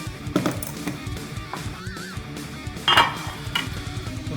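Smoked mac and cheese being spooned from a mixing bowl into baking dishes, with scraping and clinking of a utensil against the dishes and a sharper knock near the end, no voices.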